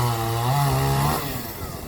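A chainsaw cuts large firewood logs for a wood-burning boiler, its engine whining loud and close with a steady buzz that dips in pitch as the bar bites, then drops slightly in level.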